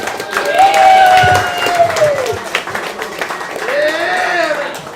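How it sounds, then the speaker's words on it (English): A small group claps around a boys' soccer team feature, with loose applause under raised, sliding voices that swell near the start and again toward the end. "So clap that up a little bit"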